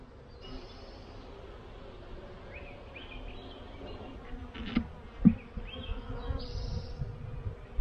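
Bees buzz around a hive at a newly set up apiary, a steady low hum with individual insects droning closer and farther, plus a few sharp knocks near the end.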